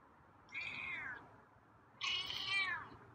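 Two meows from a feral cat named Scruffy, the first raspy and the second louder and longer, each rising and falling in pitch, close by over a quiet background.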